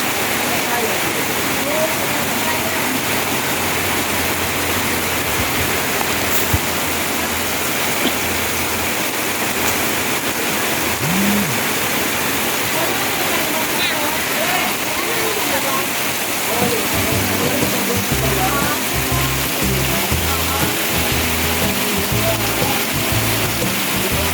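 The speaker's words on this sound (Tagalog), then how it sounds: "Malakas po ang ulan guys." Heavy rain pours down steadily as a dense, loud hiss for the whole stretch, with a low rumble of traffic or engine joining toward the end.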